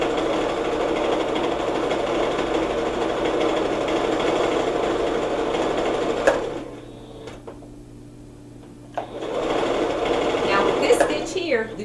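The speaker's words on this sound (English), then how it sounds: "And also, Singer's an American-made sewing machine." An American-made Singer sewing machine runs steadily while a dress is stitched, a continuous mechanical whir that stops for about two seconds midway and then starts again.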